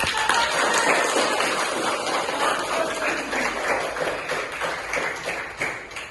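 Students in a classroom applauding together, a dense, loud patter of many hands clapping that holds steady and then thins slightly toward the end.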